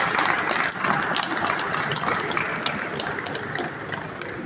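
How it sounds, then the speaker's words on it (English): A conference audience at a real estate event in Lagos gives a round of applause, a dense steady patter of many hands that holds at an even level throughout. "A round of applause for him."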